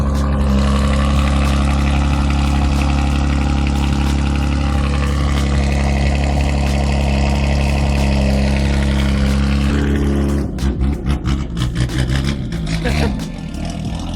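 A Subaru BRZ with a blown engine runs loudly with a steady deep droning rumble for about ten seconds, then cuts to choppy, uneven pulses, with people talking nearby.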